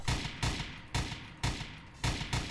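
Sentry gun in Garry's Mod firing a quick run of loud, sharp shots, about six bursts in under three seconds with short booming tails, no voices over them.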